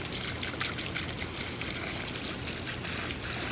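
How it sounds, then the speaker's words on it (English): Water poured from a jug onto dry garden flowers outdoors, a steady close trickle and splash running without a break for several seconds with no talking. "Donnie, I'm out here watering your flowers that I forgot about since you've been gone."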